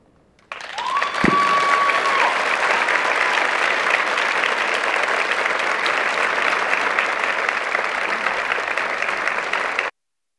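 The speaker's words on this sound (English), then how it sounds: "Can we hear another round of applause for these amazing..." A full theater audience at a high school show in Hershey bursts into loud, sustained applause, a dense even roar of clapping that starts abruptly and holds steady before cutting off, with a brief whoop near the start.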